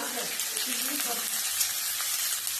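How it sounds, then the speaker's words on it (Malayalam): Sliced onions and green chillies sauté in hot oil in a pan, with a continuous close sizzle and a few soft stirring scrapes. "സവാളയും പച്ചമുളകും ഇടുക. എന്നിട്ട് നല്ലവണ്ണം വഴറ്റിയെടുക്കുക."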